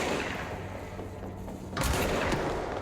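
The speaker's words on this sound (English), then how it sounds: "I don't know what's shooting at me" Enemy gunfire in a video game, made of low booming shots under a dense rumble, with a sharp, louder blast near the end. No one speaks.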